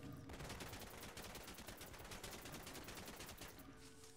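In the video game Gigantic, machine pistols and a cannon fire in a rapid, sustained burst of shots that carries on for several seconds before cutting off. Faint overall, with no talking.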